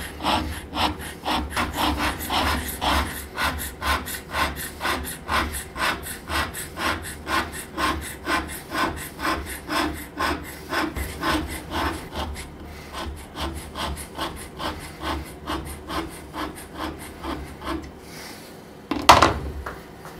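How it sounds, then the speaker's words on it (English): A hand scraper blade works across a flat metal surface in a long, regular series of rasping strokes, close and even in rhythm, with one sharper knock near the end and no talking over it. "The scraper blade moves into the old chatter marks and makes them worse."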